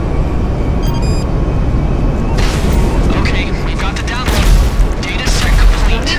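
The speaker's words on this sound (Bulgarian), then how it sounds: "Аз взривих хеликоптери." Helicopters blowing up in a video game: a continuous loud roar of explosion rumble and crackling blasts, with bursts swelling in the middle and near the end, a brief electronic blip early on.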